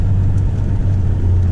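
A Toyota Landcruiser 105 series with a turbocharged 1HZ diesel engine labours up a hill in second gear, giving a loud, steady low rumble close by.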